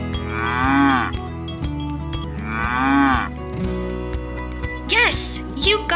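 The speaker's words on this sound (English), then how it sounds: "It's a cow! Cows say moo!" A cow on a farm moos twice in long, loud, drawn-out calls over a bouncy background tune, followed by higher playful vocal sounds near the end.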